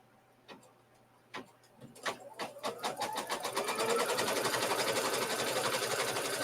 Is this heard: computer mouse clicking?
no